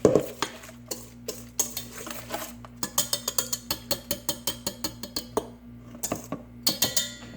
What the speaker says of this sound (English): I'm just going to blend this in the bowl before I add my crab meat